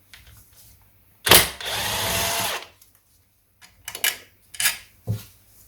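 Removing the screws holding the inner primary chaincase on a Triumph Trident T150V engine during a rebuild: a sharp burst of power-driver whirring lasting over a second, then several short buzzing spurts, close and loud in a quiet workshop.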